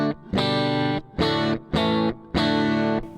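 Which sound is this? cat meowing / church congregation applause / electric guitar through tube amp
electric guitar through tube amp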